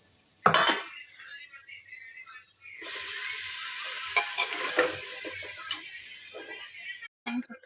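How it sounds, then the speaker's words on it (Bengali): Spinach is sautéed with spices such as coriander powder in a pan, giving a steady, bright sizzle with occasional stirring clinks and scrapes of a utensil against the pan. "পালং শাকটা দিয়ে ভালো করে কষিয়ে নেবো।"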